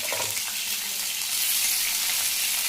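Brinjal frying in oil with cumin on a flat griddle, a loud continuous crackling sizzle heard up close with no voices.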